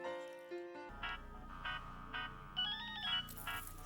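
A mobile phone ringtone plays a short electronic melody of bright repeated tones, loud and clear, over a low background music bed in a Hindi television drama.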